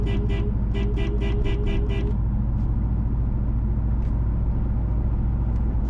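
Car driving along Junction Main Road in St Mary Parish, Jamaica, heading from Agualta Vale toward Kingston. A loud, steady road rumble runs throughout, opened by a quick series of about six horn toots in the first two seconds.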